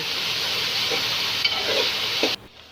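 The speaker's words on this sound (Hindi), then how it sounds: "प्याज को हम अच्छी तरह से फ्राई करेंगे।" Steady bright sizzling of onions frying in a pan, with a few soft stirring scrapes, cutting off abruptly near the end.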